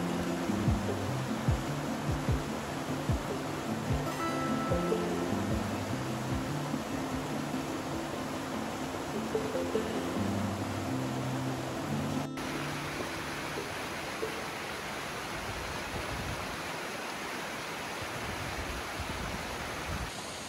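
Cascade Falls in Ouray, Colorado, heard as a steady, broad rush of falling water, constant and fairly distant, with a low tonal hum in the first half that fades out.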